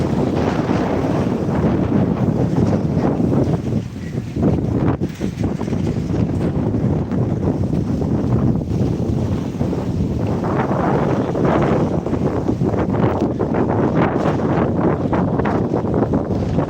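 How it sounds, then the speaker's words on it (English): Heavy wind at Fortaleza, Ceará, pounding the microphone with a loud, continuous roar and low rumble, rising and falling in gusts, likely beside the sea, with nobody speaking. "But the wind helps a lot to reduce the thermal sensation, you know?"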